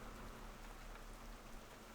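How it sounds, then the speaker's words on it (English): Steady, even rainfall in the life-simulation game The Sims 4, a dense continuous hiss with no distinct drops, heard alone without talk. "Car, it's raining."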